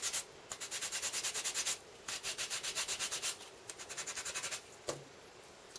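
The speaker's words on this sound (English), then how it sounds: "when you give it a bit of a sand," Abrasive sanding on the edges of an alcohol-ink-coloured, die-cut paper leaf with embossed veins: repeated quick scratchy rubbing strokes in short rhythmic bursts, close and clear, with a brief pause in the middle and a small knock near the end.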